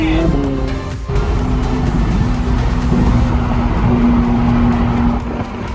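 McLaren sports cars drive a mountain pass, a steady loud engine drone with a sustained tone rising and holding throughout, close and continuous with faint voices underneath.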